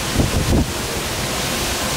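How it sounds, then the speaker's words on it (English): Low, rumbling gusts of Typhoon Hato in Jiangmen, China buffet the microphone, swelling twice in the first half-second before settling into a steady windy roar. "Stronger gusts coming through."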